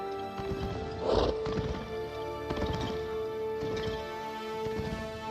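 Marwari horses in Rajasthan, India, a rare Indian breed: several soft hoof clip-clops and a brief whinny around the second mark, all at moderate distance over steady background noise.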